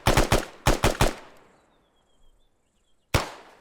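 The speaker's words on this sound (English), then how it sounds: "He's having to go with his pistol." Pistol shots ring out in the Arma 3 video game: two rapid bursts of three sharp cracks each, close and loud, followed by a quiet pause and then one more single shot.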